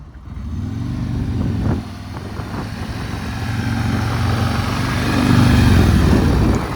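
An Anniversary Edition Harley Street Glide motorcycle idling and rolling slowly around cones, a steady low engine rumble that rises slightly toward the end, close by with no talk.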